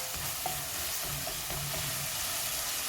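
Onions frying in a pan over low-medium heat for a fish curry, a steady close sizzle and crackle with occasional soft stirring scrapes, no talking.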